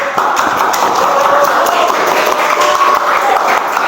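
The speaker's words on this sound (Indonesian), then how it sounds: "Terus untuk kelompok 2 tepuk tangan dulu." Classroom applause for a student group presenting in an automotive vocational lesson, loud and steady clapping from many hands filling the room for about four seconds without a break.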